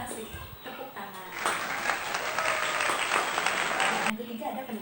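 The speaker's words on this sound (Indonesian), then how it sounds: "Ayo kasih tepuk tangan." An audience in a classroom rhetoric practice session gives a burst of applause, rising quickly and holding steady for a few seconds before cutting off, with voices around it.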